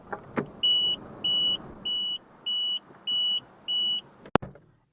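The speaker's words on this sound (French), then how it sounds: "Une alarme d'oubli des feux." A Citroën 2CV lights-on reminder alarm gives six evenly spaced electronic beeps, each about half a second long, close and clear in a quiet cabin, with a couple of sharp clicks around them.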